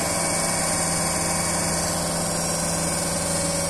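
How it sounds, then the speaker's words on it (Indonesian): A DC motor runs steadily at 1400 rpm driving a compound generator on a laboratory test bench, giving a constant loud machine hum with a strong mains-like drone and even whine throughout, no voices. "Sambil kita jaga kecepatan motornya 1400 rpm."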